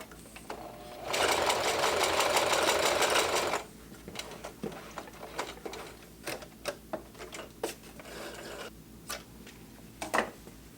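A sewing machine stitches through two layers of soft leather in a loud, rapid, even mechanical chatter for about two and a half seconds. Scattered clicks and handling taps follow.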